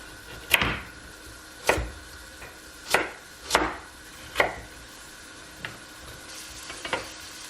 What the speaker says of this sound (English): I'm gonna peel and cut my carrots.